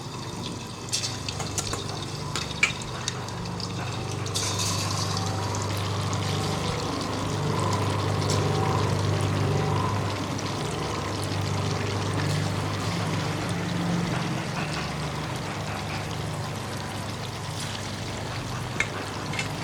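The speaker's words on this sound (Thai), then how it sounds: "เดี๋ยวเราไปเตรียมกระทะทอดเลยค่ะ เอาหมูลงไปเลยค่ะ" Pork belly fries with fish sauce in a pan, a continuous crackling, bubbling sizzle at moderate volume lasting throughout, with occasional brighter pops and spatters over the steady hiss.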